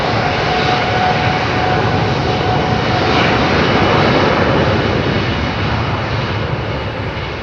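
An Airbus A330neo airliner's jet engines roar loud and steady at close range at Heathrow, a broad continuous rush that swells slightly midway and then eases off toward the end.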